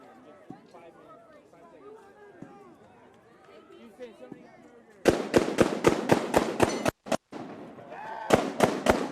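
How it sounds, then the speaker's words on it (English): Quiet murmuring voices at a street protest in the Twin Cities give way to sudden loud bursts of automatic gunfire, rapid sharp cracks fired in quick strings with brief gaps between them. "That's automatic gunfire."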